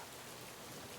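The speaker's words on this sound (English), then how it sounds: "raindrops bouncing off my hood" Steady rain patters densely onto a jacket hood in a Chilean rainforest, a close, even hiss of drops with no breaks.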